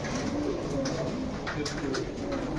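Pigeons coo continuously at a pigeon shop where teddy, racer and fantail pigeons are kept, with overlapping soft throaty calls forming a dense, steady murmur.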